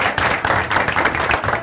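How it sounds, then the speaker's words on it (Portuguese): Audience applause after an introduction at a live event, a steady wash of clapping that runs the whole short stretch at an even, fairly loud level. "Palmas pro nosso querido Marquinho Clarizo."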